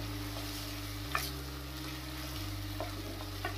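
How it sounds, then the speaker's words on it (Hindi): Onion and garlic frying in a pan, with a steady, soft sizzle and a low background hum and a few faint stirring clicks. No one talks. "2 से 3 मिनट अच्छे से करेंगे फ्राई।"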